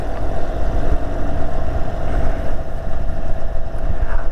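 An Indian Super Chief motorcycle rides in sport mode, its engine giving a steady, rumbling drone mixed with wind rush that holds even and close throughout, with no talking.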